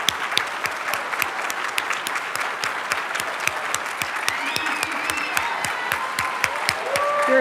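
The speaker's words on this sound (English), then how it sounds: "Let's give these students a big round of applause" Steady applause from a ceremony audience honoring students, a wash of many hands with a prominent close, rhythmic clapper beating evenly throughout, faint voices and cheers in the background.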